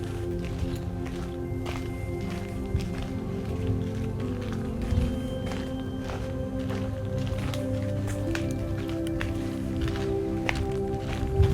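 Footsteps on an outdoor walk, heard as a steady run of soft, fairly close steps under a constant low background hum.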